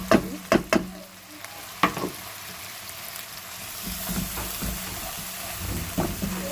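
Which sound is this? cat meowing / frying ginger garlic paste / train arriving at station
frying ginger garlic paste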